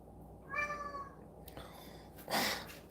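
A cat gives a single close, drawn-out meow, followed by quieter rustling and a brief noisy burst, in a calm indoor setting.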